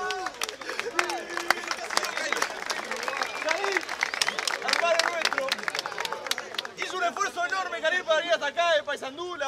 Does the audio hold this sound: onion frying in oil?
no